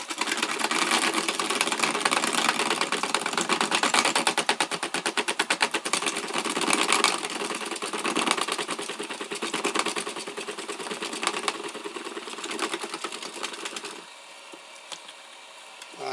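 Homemade shredder for 3D printed plastic parts, driven by a car wiper motor, running with a dense rapid rattling chatter and motor whine, loud and close, continuous before dropping away to a faint hum.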